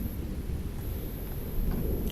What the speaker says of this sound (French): L'orage se développe.